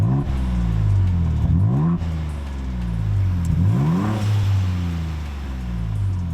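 A 2022 Ford Bronco Raptor engine revs repeatedly with its exhaust note, rising and falling in several loud surges heard close up with a steady idle rumble between them.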